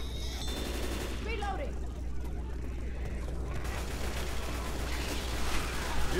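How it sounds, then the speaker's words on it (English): Rapid continuous AK rifle fire in a video game, dense bursts of loud shots rattling on with game sounds and a voice talking in the background. "Sorry, I can't hear you over my AK."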